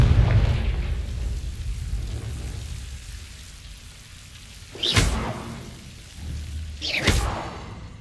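The Confringo fire spell in the video game Hogwarts Legacy goes off twice, each a sharp bright burst about two seconds apart over a low rumbling game background with light crackle.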